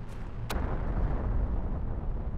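Meteorite impacts bursting in The Planet Crafter game: two sharp blasts early on, the second louder and brighter, then a dense low rumble that keeps churning without letting up.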